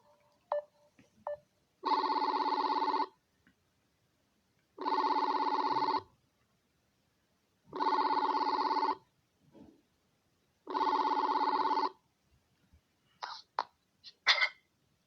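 A telephone ringing for a call-in radio show. Four loud, evenly spaced electronic ring bursts sound about a second each with short gaps between them, followed by a few faint clicks and a brief cough.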